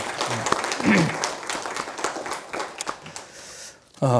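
A church congregation in Daejeon, South Korea, applauds during a worship service in a steady burst of clapping with a few voices mixed in, breaking off abruptly near the end.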